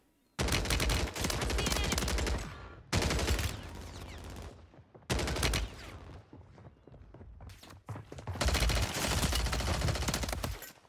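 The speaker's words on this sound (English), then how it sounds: "I'm getting shot from tower" Automatic weapon fire from a Striker 9 in the video game Warzone 3 comes in four dense bursts separated by short gaps, loud and close, with fainter shots between.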